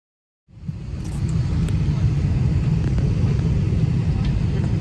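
A passenger airliner's engines give a steady, deep rumble inside the cabin on a flight from Philadelphia to Orlando, rising quickly from silence and holding a constant roar.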